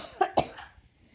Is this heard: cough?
yes